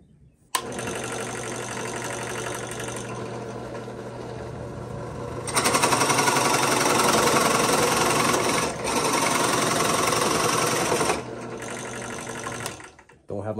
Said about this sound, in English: let's try the 2 1/8 inch bit